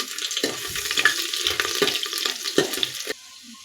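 Ginger and curry leaves sauté in a pan with a bright, close sizzle, broken by several rhythmic stirring scrapes, then cut off abruptly into quiet near the end.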